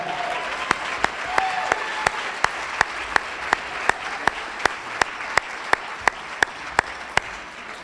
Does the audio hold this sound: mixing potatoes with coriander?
no